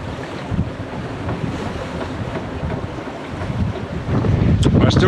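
Steady wind buffets the microphone aboard a sailboat under a scrap of mainsail, moving at about 4 knots with the wind on the beam, with a constant rush of water and waves that swells louder near the end.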